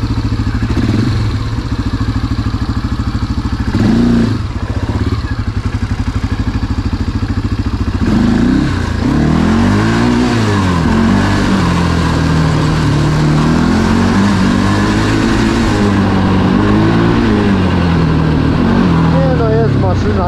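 A quad ATV engine revs and pulls steadily while being ridden, loud and close throughout, with rising and falling pitch as the throttle changes and someone speaking over it.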